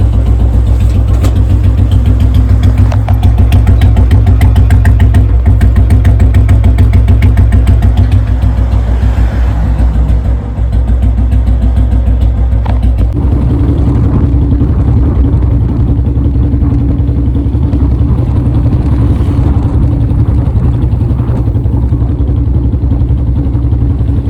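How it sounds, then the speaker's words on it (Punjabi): A Royal Enfield Bullet motorcycle runs after a kick start following seven days unused, producing a loud, close, continuous engine drone with a steady low throb that holds for the whole stretch. "ਮੋਟਰਸਾਈਕਲ ਹਾਈ RPM ਤੇ ਆ"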